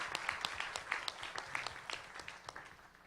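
Audience applause for a young female host at a 2014 venture forum, light scattered clapping from a modest crowd, individual claps audible, steady for a few seconds with no talk over it.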